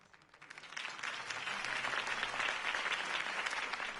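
A crowd in the video game Batman: The Telltale Series bursts into sustained applause, building quickly from a few claps into a dense, steady roar of clapping that carries on to the end.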